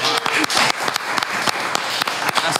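Scattered studio applause from a small group, a brisk patter of overlapping hand claps lasting a couple of seconds, close and fairly loud, with voices mixed in.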